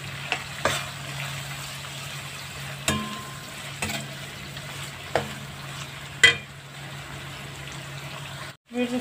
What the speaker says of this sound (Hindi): अब हमारा प्याज जो है ये ऑलमोस्ट फ्राई हो चुका है